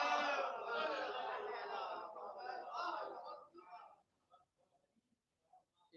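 Large gathering of devotees chanting salawat together in unison at a religious celebration in an imambara in Lucknow, a loud sustained collective voice for about four seconds that then breaks off into scattered faint murmurs.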